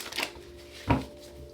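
Tarot cards are shuffled close by in two quick riffling bursts, the second louder and sharper, with quiet gaps around them.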